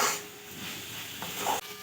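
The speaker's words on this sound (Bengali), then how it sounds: "আর একটু কিছুক্ষণ করে নাড়াচাড়া করব।" A cooking mixture for sweet pitha filling is stirred in a pan, giving a brief soft scraping and rubbing sound with faint sizzle, close by and fairly quiet.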